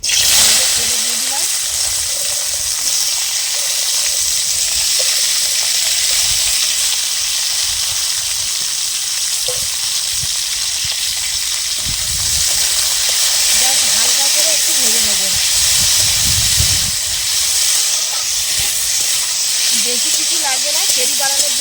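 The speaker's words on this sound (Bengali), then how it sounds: "আমার করমচাটা কিন্তু ভালো করে এই যে ভেজে নিয়েছি" Karamcha fruit fries in white oil on a stove with a loud, continuous hiss and sizzle, sharp crackles rising at times, while a voice talks over it.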